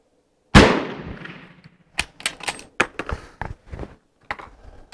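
A Mauser 1895 Chilean long rifle fires a single sharp, loud shot with a decaying echo, followed by a quick run of metallic clicks and clacks as the bolt is worked.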